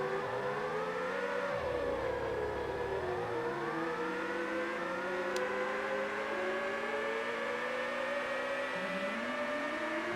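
An F1 race car engine in the N64 game F1 Pole Position 64 keeps up a continuous, loud, synthetic whine that dips and rises as the pitch shifts, with no voices over it.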